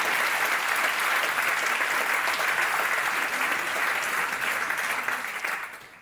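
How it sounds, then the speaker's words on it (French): A conference audience applauds a speaker in a sustained, dense wash of clapping that holds steady for most of the stretch before tapering off at the end. "on peut l'applaudir encore une fois"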